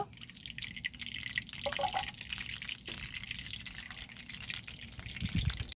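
Mustard oil pouring into a hot wok on a stove, a liquid trickle and drip against a low background rumble, moderately close, without speech.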